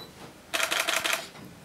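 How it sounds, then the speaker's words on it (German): A rapid burst of camera shutter clicks at a comic festival in Erlangen, several crisp mechanical snaps in quick succession lasting under a second, fairly close and alone after a quiet start. "nee, das war doch nur eine Kamera"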